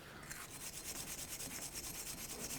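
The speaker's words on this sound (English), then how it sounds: "next I'm going to go in with my wire brush in between the studs and make sure that there's nothing in there." Wire brush scrubbing back and forth between the wheel hub studs of a 2001-2007 Toyota Highlander during a front brake job, a steady, rhythmic, close-up rasping with regular strokes and no talking.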